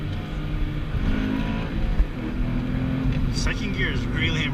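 An E85-tuned Toyota FR-S pulls hard in second gear on a canyon road, its engine drone steady and loud from inside the cabin, with brief voices breaking in near the end.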